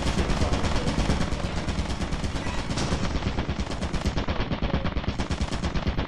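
Machine gun turret in a video game firing a long, relentless burst of rapid shots, loud and close, with no pauses across the whole stretch.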